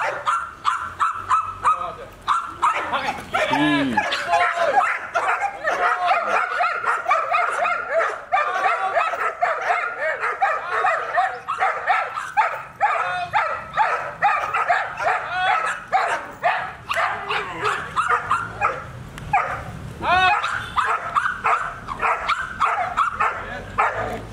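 Togo, a protection-trained K9 dog, barks and yips repeatedly in loud, rapid bursts throughout, with occasional whimpers and people talking in the background.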